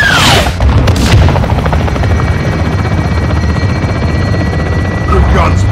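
Helicopter fire strike on a gate in the video game Modern Warfare II, with loud continuous rotor thrum, heavy booms and bursts of gunfire throughout, and radio-style voices talking over it.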